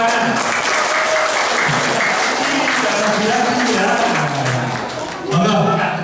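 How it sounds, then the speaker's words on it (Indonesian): Group applause at an Indonesian scout jamboree national-awareness session, loud dense clapping sustained throughout, with voices talking and calling over it and a brief swell near the end. "Oke, tepuk tangan."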